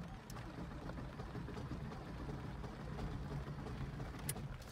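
A failing Porsche Boxster S engine runs roughly, sputtering continuously with an uneven low rumble and occasional sharp knocks, fairly loud and close.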